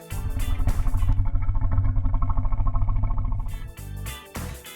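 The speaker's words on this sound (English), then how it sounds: "That's the sound you hear when a crocodile isn't happy." An unhappy crocodile gives a deep, rumbling growl that holds steady and loud for about three seconds at close range, then tapers into a few shorter grunts with no voices.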